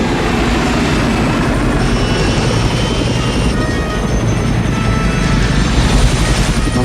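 Helicopters flying in scenes from the action film Fire Birds, a loud, continuous rotor and engine roar that holds steady for the whole stretch, dense and close with no talking.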